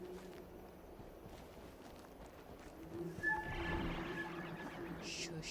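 A horse whinnies faintly amid soft hoof sounds and low background noise in the video game Horizon Zero Dawn, with a brief voice at the end.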